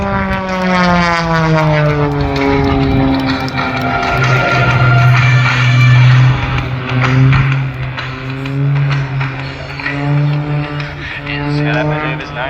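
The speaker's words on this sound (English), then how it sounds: "please welcome Paul Bennett and the Woodpits Pro" Pitts Pro aerobatic propeller biplane performing at an air show in Tocumwal, its loud droning engine note rising and falling steadily throughout with shifting pitch as it manoeuvres overhead.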